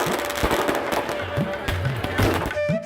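Fireworks burst at a Ravana effigy burning during Holi, with repeated loud cracks and booms over a dense crackling roar, a crowd and voices mixed in throughout.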